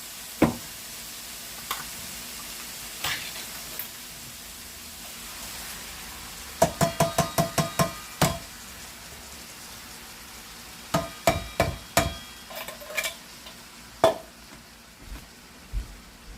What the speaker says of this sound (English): I'm going to add a can of petite diced tomatoes